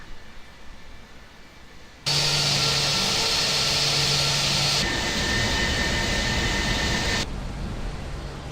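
An airplane engine in the Prepar3D flight simulator cuts in suddenly as a loud, steady roar with a humming tone, shifts character partway through, then drops back to a quieter engine drone.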